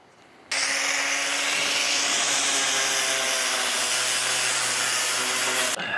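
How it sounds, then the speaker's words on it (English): An angle grinder fitted with a worn flap disc grinds a 1985 Toyota SR5 pickup truck bed, starting abruptly and running with a steady, loud abrasive whine for about five seconds before cutting off. "I used the grinder with the flapper disc, the worn out flapper disc."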